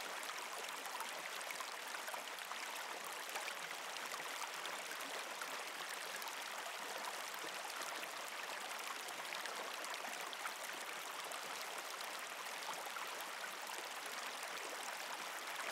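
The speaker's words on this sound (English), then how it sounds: "enhanced by the gentle bubbling of a smart," Small programmable garden water feature in a minimalist Japanese stone setting, a soft, continuous trickling and bubbling that stays faint and even throughout, with no voices.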